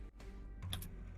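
Quick keystrokes on a computer keyboard, a few clicks clustered together close to the mic over a low steady background hum, with no voices.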